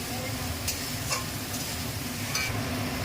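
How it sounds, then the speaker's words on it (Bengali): Ginger garlic paste frying in a hot pan gives a steady, close sizzle with a few light ticks of stirring, continuous for the whole stretch. "আদা রসুনের পেস্টটা দিয়ে দেব। কড়া হয়ে গিয়েছে"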